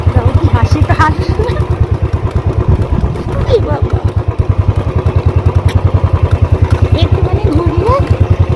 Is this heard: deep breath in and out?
no